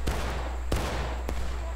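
Musket fire at a battle reenactment marking the anniversary of Antietam, with three sharp cracks spaced irregularly over a constant low rumble, close and loud.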